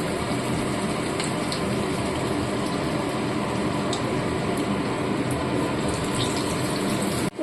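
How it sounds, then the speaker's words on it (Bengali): Hot oil poured over marinated chicken in a pan gives a steady, close, loud sizzling hiss that runs unbroken throughout before stopping abruptly at the end. "এটা এখানে নিয়ে এখন গরম করা তেলটা সাইড দিয়ে ছেড়ে দেবো।"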